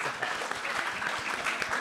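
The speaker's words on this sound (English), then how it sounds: "let's get a round of applause for that question" Audience applause at a science week school session, a steady dense patter of many hands clapping in a hall, moderately loud and continuous with no talk over it.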